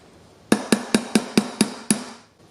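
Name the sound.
brass hammer striking a punch during AR-15 barrel install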